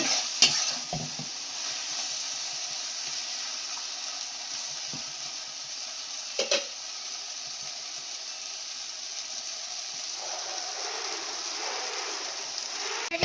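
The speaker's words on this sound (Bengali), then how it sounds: "সর্ষে বাটাটাকে দিয়ে আবার কয়েক সেকেন্ড আর কি নাড়াচাড়া করে নেব।" Okra and mustard paste are stir-fried in a pan, with a continuous close sizzle and hiss broken by occasional scraping and clinking stirs.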